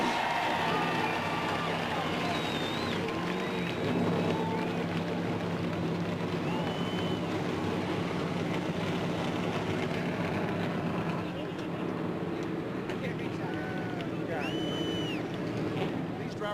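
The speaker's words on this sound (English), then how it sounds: "Drivers, start your engines!" Stock car engines fire up at the 2002 Daytona 500, a dense, continuous roar mixed with crowd noise and a speaking voice, loud and sustained throughout.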